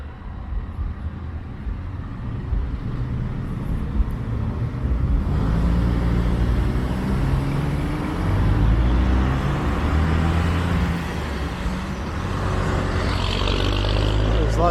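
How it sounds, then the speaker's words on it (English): Road traffic on a busy suburban route in North Bay, Ontario, with transport trucks passing: a continuous low engine rumble that swells as heavy vehicles go by, with a bright hiss of tires toward the end. "Lots of transport trucks that take this route."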